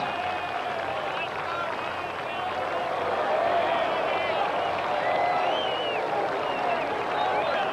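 Golf crowd at the 1995 Ryder Cup applauding from a distance, a steady wash of clapping and murmuring that holds evenly throughout, with a commentator's voice running over it.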